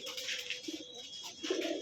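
Pigeons kept for sale coo softly in a continuous low murmur, with a few brief louder coos standing out; no talking is heard.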